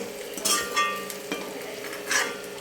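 Sliced shallots fry gently in coconut oil in a pan, a soft steady sizzle under occasional scraping stirs and light clinks from a utensil, close by, with no talking.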